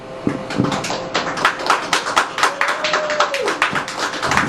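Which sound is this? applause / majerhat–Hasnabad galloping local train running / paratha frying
applause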